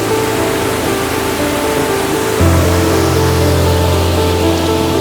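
Aliguna waterfall in Rayagada, Odisha, roars with loud, continuous rushing water, a dense steady wash that deepens and grows slightly louder midway, with no voices.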